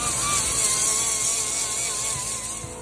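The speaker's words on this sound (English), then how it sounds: "Now we're just scuffing up the bottom." The aluminum-free bottom of a skiff is scuffed and roughed up with a power sander before mounting a live well, giving a continuous close abrasive grinding whir with slight wavering pitch and no voices.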